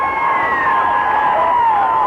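Loud, dense crowd cheering and whooping fills the stands at a night high school football game between Fort Morgan and Liberty, a steady roar of shouting voices sustained throughout without a break.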